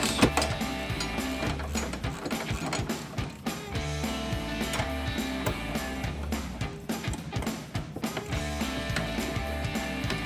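A 13mm socket on a ratchet tightens running board bracket bolts on a 2007-2018 GMC Sierra 1500, a continuous rapid clicking of the ratchet pawl with metallic rattles, close and steady throughout.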